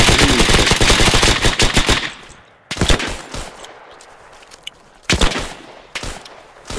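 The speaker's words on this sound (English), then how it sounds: "Everyone just started shooting in that direction." Dense automatic and rifle gunfire in the World War II shooter Hell Let Loose, a rapid sustained burst of machine-gun fire followed by scattered single shots and short bursts at close range with quiet gaps between.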